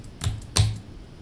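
Two sharp, close clicks on a computer keyboard at a day-trading desk, spaced about a third of a second apart, with quiet room tone between them.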